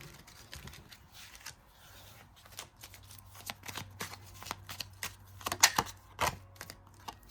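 Astrology cards being shuffled by hand, a run of quick riffling flutters and soft card slaps, close and fairly quiet, with no talk.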